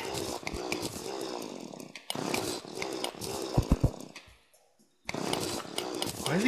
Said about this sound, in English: drill through this wall